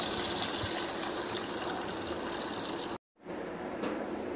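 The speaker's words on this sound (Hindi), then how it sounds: "इसे अभी अच्छे से हम धो के भिगा देंगे।" Yellow moong dal is washed in water, giving a steady close splashing and gushing wash that cuts off briefly, then resumes as a softer trickle and swirl.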